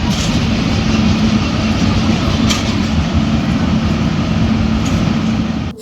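The Garib Rath Express rolls into Hazrat Nizamuddin station in a continuous, loud, low rumble of wheels and carriages. It carries on steadily throughout, with a few faint clanks over the drone.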